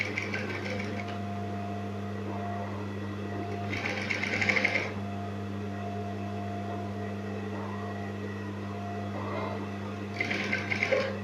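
A sewing machine stitches the hem of denim jeans in two short, loud whirring bursts, with a steady hum and quiet work sounds in between.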